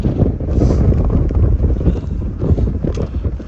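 Strong wind buffets the microphone on an exposed ridge of the Pacific Crest Trail near wind turbines, a loud, continuous low roar with gusty swells and no speech.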